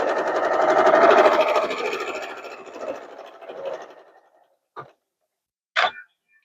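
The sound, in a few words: sewing machine back stitching fabric for pattern weights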